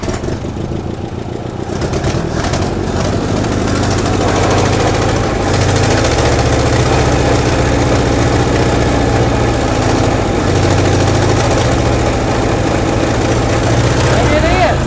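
A 1964 International Harvester Scout engine, abandoned for 40 years, runs steadily and loud after a first start, with a low rumbling idle that holds throughout and a rougher sputter at the start.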